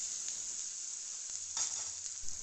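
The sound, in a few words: tomato sautéing in tempering oil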